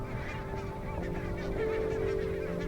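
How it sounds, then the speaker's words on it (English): A large flock of barnacle geese honks continuously by a Scottish river in winter, a dense, overlapping chorus of calls heard at moderate distance with a steady, busy rhythm. "Every winter, barnacled geese arrive right on cue at the same Scottish river"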